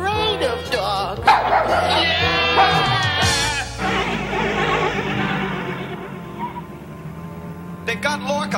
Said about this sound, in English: I'm afraid of dogs.